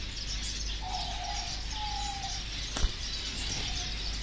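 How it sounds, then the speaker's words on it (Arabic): Pigeon hen cooing inside an aviary, a few soft, sustained low coos in two or three phrases, moderately close over steady background hiss, with a brief sharp knock partway through. "عندك هاي الطيره"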